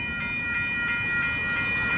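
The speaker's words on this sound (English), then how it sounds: "We got a northbound intermodal train approaching." A northbound Union Pacific intermodal freight train approaching a road crossing near Austin, Texas, a steady loud rumble of rolling wagons with a high tonal whine from the wheels, no talk.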